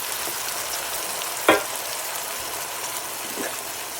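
Allen's Italian green beans are tossed into a big pan of frying bacon, giving a sharp burst of splashing sizzle over a steady background fry.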